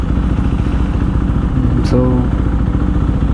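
KTM Duke 390 motorcycle engine in night city traffic, a loud, close, steady thrum with a rhythmic low pulse and a brief higher tone partway through, one short spoken word over it.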